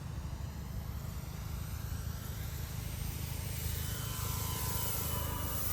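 A 1700mm P-51 RC model airplane flies with flaps lowered, its steady propeller buzz and whine held at a distance over a broad, continuous outdoor noise bed, slowly swelling as it passes.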